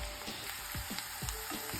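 Onions sizzle and crackle steadily in a hot pan, turning golden, with soft scraping stirs every half second or so; close and continuous, no voices.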